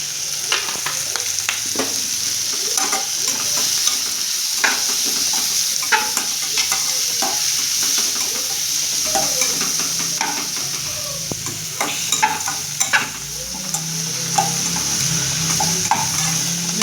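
A tempering of sprouted beans with turmeric powder, stirred and roasted in a pan. A steady close sizzle runs throughout, with frequent scraping and clinks of a spoon against the metal.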